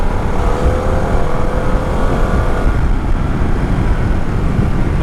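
A 2022 Harley-Davidson Pan America Special motorcycle engine drones loudly and steadily during an overtake on a test ride, with heavy wind rush over the continuous engine note.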